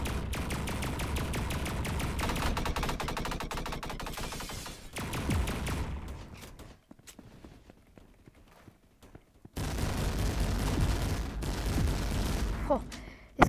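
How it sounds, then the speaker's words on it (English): Rapid automatic AA-12 shotgun bursts in a video game, dense loud fire with a pause of quieter shuffling before the shooting resumes. "Jeez, that's loud. AA-12 is loud."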